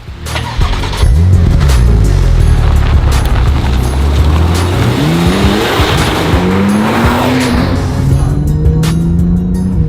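A 2014 Porsche 911 Turbo with a twin-turbo 3.8-litre flat six, loud engine pulling hard through rising revs with gear changes and tire squeal, heard close and continuously throughout.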